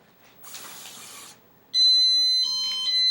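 A hiss is followed by a high, steady insulin pump alarm beep, triggered by kinked tubing, that holds on loudly, with a faint rustle near the end.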